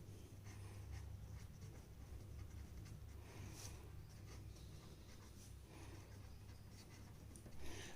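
Chalk or marker strokes write Heron's formula on a classroom board in short scratchy bursts, faint and close, with no talking.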